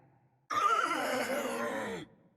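A creature voice in the League of Legends game, Fiddlesticks, imitates a horse with a single drawn-out whinnying neigh lasting about a second and a half, loud and close against near silence.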